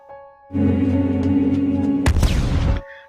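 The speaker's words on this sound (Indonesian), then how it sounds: "makhluk itu pun meledak" A low, droning tone holds steady, then a sudden loud blast bursts in, rumbling briefly before cutting off.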